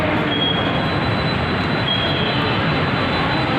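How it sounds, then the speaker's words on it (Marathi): Pune metro train at a station, a loud, steady mechanical rumble and rushing hum with a faint high whine, continuous and close. "पुणे मेट्रो स्टेशन आहे."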